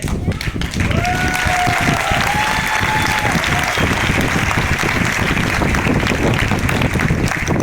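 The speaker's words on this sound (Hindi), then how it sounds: "आप लोगों को अगर तालियां बजाना है तो फिर दिल से बजाइए।" Loud, sustained audience applause at a live speaking event, dense clapping that fills the whole stretch, with a brief voice or tone sounding near the start.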